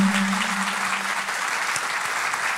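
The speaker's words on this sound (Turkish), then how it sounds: "Değerli saz üstadlarımız için de ben şöyle kocaman alkışlar almak istiyorum." Audience applause at a Turkish classical music choir concert, honoring the saz masters: dense, steady clapping from a large hall crowd, loud and continuous for the whole stretch.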